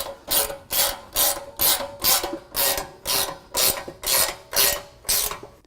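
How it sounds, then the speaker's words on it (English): A hand ratchet tightens bolts on the side plates of a Clawhammer rear bumper on a Jeep JK, giving about eleven steady, evenly spaced rasping clicks, close and loud, with no talking. "So now I'm going to go ahead and tighten up the hardware on the side plates."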